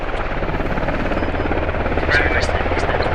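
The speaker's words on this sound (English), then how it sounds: "Helicopter." A helicopter flying overhead, a steady, loud, broadband rotor and engine drone that fills the whole stretch, with faint voices partly under it.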